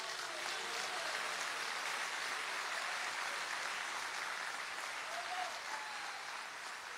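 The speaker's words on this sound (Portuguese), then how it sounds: "Pode aplaudir a Jesus" A congregation at a church service applauds in a steady, even wash of clapping that holds throughout, fairly distant and without talk over it.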